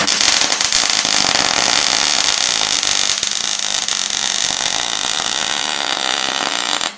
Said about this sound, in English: that's my first try at doing a butt weld on thick steel